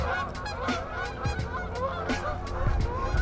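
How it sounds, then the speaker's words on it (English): Geese honk repeatedly outdoors, loud and close, with harsh overlapping calls in an uneven rhythm over a windy background. "Darn angry birds out here."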